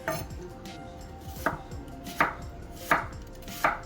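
A knife slices through white and red onions on a cutting board, five crisp, evenly spaced thunks about three-quarters of a second apart, close and clear with no voices.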